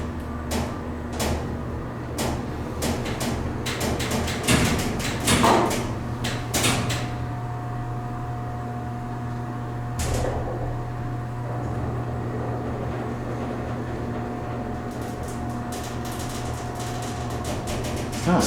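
An MEI hydraulic small freight elevator with manual doors at a convention center, heard as a series of metallic clicks, clunks and rattles over a steady low hum, with a sustained tone partway through.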